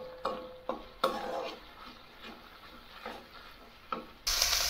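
A utensil stirs and scrapes spices around a pan for a soybean dish, in repeated separate strokes over a faint sizzle, with a louder burst of frying at the end.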